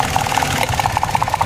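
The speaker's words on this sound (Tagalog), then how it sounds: "Ayan mga sir, nanginginig yung makina." A Mitsubishi Mirage engine idles roughly and shakes while a spark plug is tested, giving a steady close mechanical drone with faint regular pulsing and no speech.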